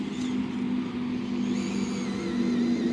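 A cheap £57 RC car drives over dirt, its small electric motor giving a steady, continuous whine with a droning buzz that holds at an even level throughout, close and unbroken.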